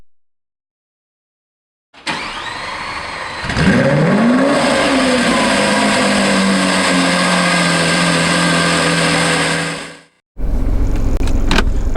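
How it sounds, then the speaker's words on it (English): A Porsche GT3 RS starting up, the engine catching with a sharp rising flare of revs, then settling into a loud, steady warm-up idle for several seconds before cutting off, with a brief burst of handling noise afterward. "I'm going to let the car warm up"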